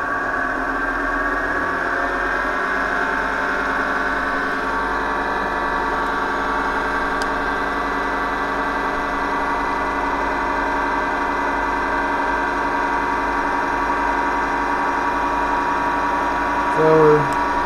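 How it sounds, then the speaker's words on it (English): An attraction motor runs up to about 3,100 RPM during an output test, giving a steady, fairly loud electrical hum with layered tones that holds evenly across the whole stretch. "So we're just going to bring it up to speed here."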